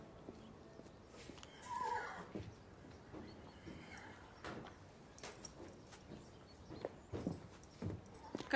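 Horse at a stable giving a faint whinny amid quiet shuffling, scattered hoof clops and knocks, soft and somewhat distant, no voices.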